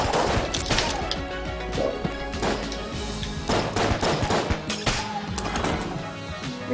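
Rapid, dense gunfire from the bullet-hell dungeon crawler game Enter the Gungeon, with sharp shots and crashes bursting repeatedly over a loud, busy game soundtrack throughout.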